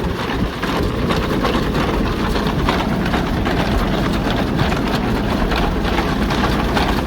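Farm tractor engine idling on a power pin before harvest, a steady, loud low rumble running without a break and no voices over it.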